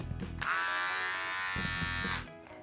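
An electric beard trimmer buzzes steadily and close for about two seconds, starting and stopping cleanly, with a faint voice and light handling noise around it.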